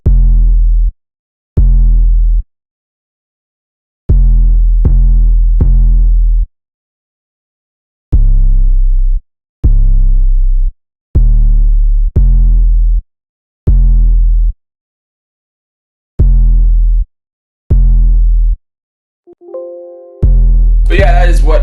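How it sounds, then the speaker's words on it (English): Plug-style 808 bass pattern from a type beat at 119 BPM: deep, booming sub-bass notes hit in short gated bursts with silent gaps between them, loud and dry, with a brief glitchy tail at the end. "Next we have the 808, and it's the plug 808"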